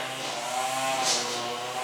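A lawn mower runs outside in the background, a steady, continuous engine drone that stays fairly faint and even throughout, with no talking over it.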